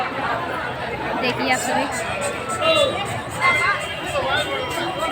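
Crowd chatter fills the grounds of the Bade Hanuman ji temple in Prayagraj, a dense, steady hubbub of many voices close by, with someone talking over it.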